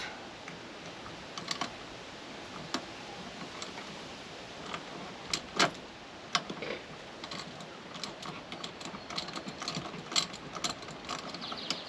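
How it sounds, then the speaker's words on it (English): A ratchet wrench works a bolt loose in a series of quick, crisp mechanical clicks. The clicks come in uneven bursts over about twelve seconds, close but fairly quiet, with no talking. "Let me just carefully remove this one bolt."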